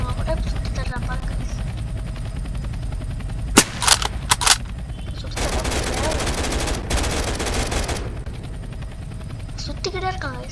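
Video game gunfire in a ground war battle, with a few sharp shots, then a sustained burst of automatic fire and a later flurry of shots. A steady helicopter-like drone runs underneath throughout, and occasional voices come through.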